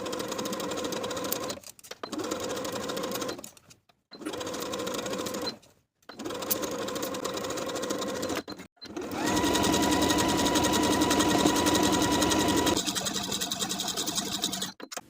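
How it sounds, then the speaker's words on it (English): Sewing machine stitching a sleeve seam into a dress, running in steady whirring bursts with short pauses between them, then one longer continuous run near the end, close and moderately quiet. "Sew the sleeve in place with a 3/8 inch seam allowance"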